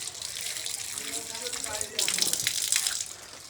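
Tap water running at a mosque ablution area while feet are rinsed, a steady close splashing stream that grows louder and more gushing partway through.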